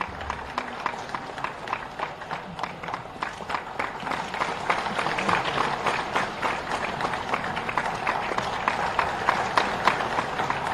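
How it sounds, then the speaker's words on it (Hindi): A large audience claps steadily at an Uttar Pradesh ceremony honouring teachers, a dense, sustained applause that fills the whole stretch at even loudness with a faint murmur of voices beneath. "आप सबकी तालियों में इस समय पूरे उत्तर प्रदेश की तालियों की आवाज होनी चाहिए।"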